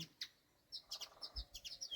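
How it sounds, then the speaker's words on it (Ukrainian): Birds chirp near their nest in a rose garden, with quick, faint high tweets repeating irregularly in the open air and no talk. "Прилетіли пташки і хвилюються."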